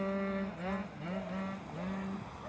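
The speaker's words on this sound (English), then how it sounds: "this young guy just rode by on a Vespa, or a souped up one. He's modified the engine." A young rider passes on a Vespa scooter with a modified, souped-up engine in northern Italy, its buzzing two-stroke whine rising and falling in pitch as it revs by, fairly loud and close, with no talk.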